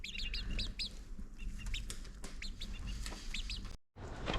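Chickens cluck and squawk close by in short repeated bursts over a steady outdoor background, with a brief dropout near the end.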